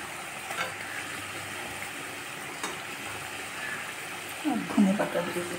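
Pabda fish simmers and sizzles in mustard gravy in a pan, a soft, steady bubbling hiss that swells into louder sizzling and stirring near the end.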